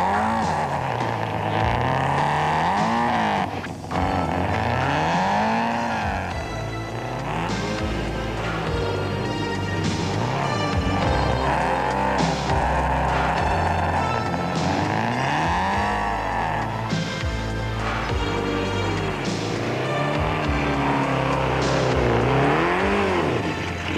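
Nissan Sentra and Mitsubishi Conquest rally cars on a damp gravel and soil stage, engines revving and rising and falling as they drive and pass, loud and continuous with music-like tonal layers throughout.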